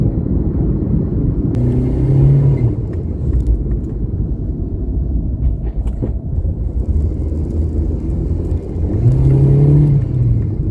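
A 2002 Toyota Corolla engine hums steadily from inside the cabin while driving, rising in revs and dropping as it shifts through the gears, with a constant low road rumble.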